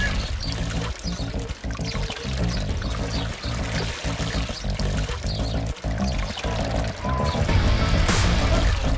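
The Fourth Falls waterfall at Sitio Aries in San Mateo, Rizal, pours in a loud, constant roar of rushing water throughout, close and unbroken.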